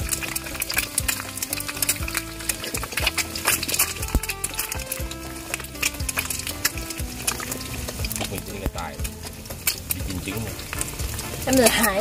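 Eggs fry in a pan with a steady, close crackle and sizzle that carries on throughout. Scrapes and stirring sounds come and go, and voices are faintly audible beneath the cooking.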